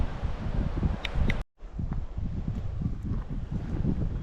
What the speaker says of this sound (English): but that wind is just bonkers